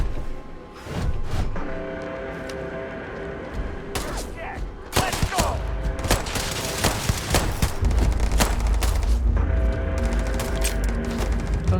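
Rapid pistol fire from a Starfield player character at a mining outpost, loud bursts of shots clustered together over game music and ambience.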